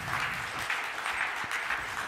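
A conference audience applauds to welcome a food and beverage executive onto the stage, a steady wash of many hands clapping at moderate distance for a couple of seconds without a break.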